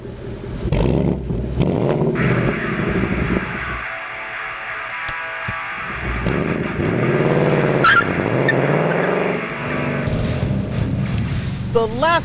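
A 2019 Ford Mustang Bullitt underway, its V8 engine droning and rising steadily with rev swells near the end, loud and close, with a person talking over the engine throughout.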